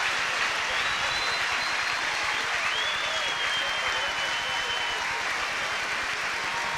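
A stadium crowd at an athletics grand prix in Sydney applauds before a men's 100 m race, sustained even clapping that fills the whole stretch, with a few faint whistles rising above it.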